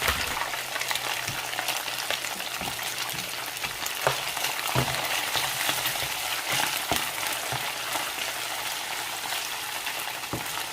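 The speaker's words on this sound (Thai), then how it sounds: "เราจะทอดกระเทียมพริกไทยก่อนนะ" Garlic and white pepper frying in hot oil over medium heat, a continuous dense crackling sizzle with scattered sharp pops, steady and close throughout.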